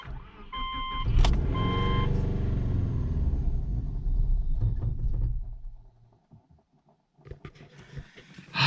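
A Subaru engine cranks and turns over with a deep, close rumble, runs roughly for a few seconds, then cuts off into near silence before some faint clunks and handling noises.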